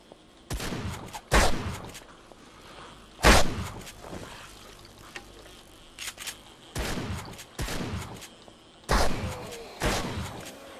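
Bursts of gunfire in the 7 Days To Die survival video game, roughly seven loud broadband volleys spaced irregularly over about eleven seconds, with a low background hum between shots and no speech.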